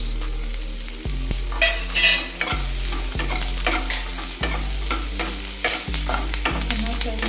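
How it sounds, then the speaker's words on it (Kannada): Dried red chillies, cumin and pepper frying in a pan for a spicy Karnataka-style chutney, a loud continuous sizzle broken by repeated scraping stirs at roughly one-second intervals. "ಚೆನ್ನಾಗಿ ಫ್ರೈ ಮಾಡಬೇಕು."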